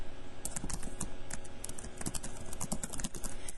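Rapid, steady keystrokes on a computer keyboard while filling in a report form, close and fairly quiet, with dense clicks and no talking.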